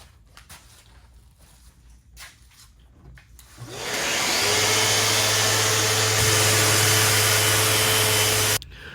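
Festool Rotex sander working on a wooden table: after some light handling knocks, the motor spins up into a loud, steady whine with a gritty abrasive hiss, running for several seconds before cutting off abruptly.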